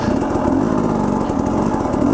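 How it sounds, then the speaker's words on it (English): Enduro dirt bike engine held at high, buzzing revs while the throttle is worked to lift a wheelie, close and loud, with a slight waver in pitch and no voices. "So try and listen to the throttle here."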